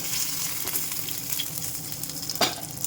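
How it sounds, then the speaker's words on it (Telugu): Curry leaves and torn dried red chillies frying in hot oil in a small pan, a steady close crackling sizzle with a sharp pop near the end, no talking. "ఇది కరివేపాకు, అలాగే తుంపుకు పెట్టుకుని ఎండమిరపకాయలు వేసేసుకుని ఒకసారి ఇలా వేయించండి"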